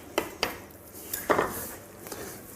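Knife roughly chopping fresh basil and parsley leaves on a board for a rustic soup, a few sharp, close clacks, two in quick succession, then a scraping clatter and lighter taps, without talk.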